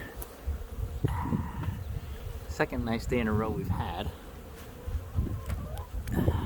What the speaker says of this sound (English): we are out in the bees.